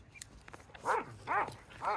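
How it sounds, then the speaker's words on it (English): Hunting dogs kept by hunters near a village bark three times in a steady rhythm, the harmonic barks fairly clear at moderate distance, with quieter clatter and yips in between. "Dogs, hunting dogs. This is where hunters keep their dogs as well."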